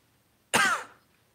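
A single sharp cough from a nearby person, bursting out abruptly and tailing off within half a second, alone in an otherwise quiet room.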